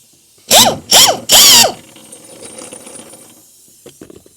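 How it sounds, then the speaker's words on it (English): Ratchet with a 5/8 socket and extension working a Ford Bronco body mount bolt: three loud, quick clicking bursts close together, followed by softer faint rattling and handling noise. "we'll use our same 5/8 socket and probably need an extension here to get down in there"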